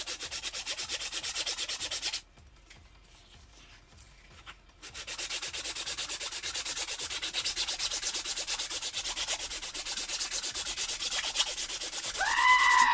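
A sanding block rubs back and forth over a wooden prop in steady, rapid rasping strokes. The sanding pauses for a couple of seconds, resumes and then continues, with no voices.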